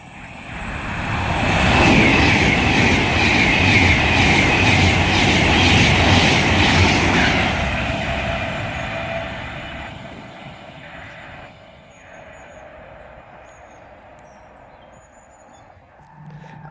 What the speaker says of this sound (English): now approaching's going to be the Virgin Pendolino bound for Preston